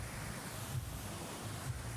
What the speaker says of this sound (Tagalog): Malakas ang hangin pag sa tabing dagat kayo. Ang lakas ng hangin.